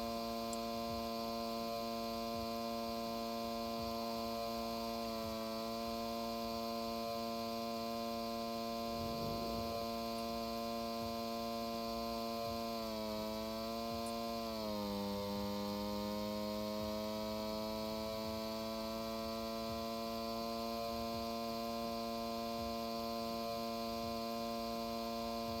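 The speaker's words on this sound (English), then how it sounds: "It just sounds like a sewing machine, to be honest." A small working modular engine runs steadily with a fine, sewing-machine-like ticking buzz over a constant hum, its pitch sagging briefly midway before settling back.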